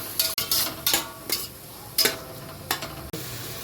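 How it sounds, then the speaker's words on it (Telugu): Two spoons of ginger-garlic paste frying in a pot for khuska rice, with a low sizzle broken by several close, sharp scraping strokes of a spoon stirring against the metal. "అల్లం తెల్లగడ్డ పేస్ట్ రెండు స్పూన్లు వేసినాను ఒక ఐదు నిమిషాలు వేగాలి"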